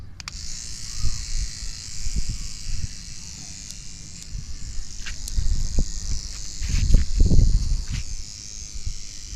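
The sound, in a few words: electric toothbrush buzzing while shaking plants for pollination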